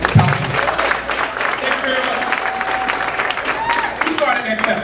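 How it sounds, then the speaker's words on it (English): Audience clapping at a teacher appreciation celebration, steady dense applause running throughout with voices and cheering mixed in, fairly loud and close. "I'll let y'all clap."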